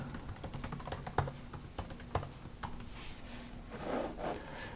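Typing a username and password on a computer keyboard: a quiet run of irregular key clicks close up, with a few louder taps and a brief soft rustle near the end.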